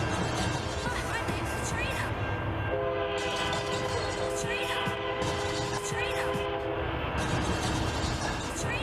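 A loud train horn used as a stream hype-train sound effect, a sustained multi-tone blast holding for several seconds over rumbling rail noise and clatter.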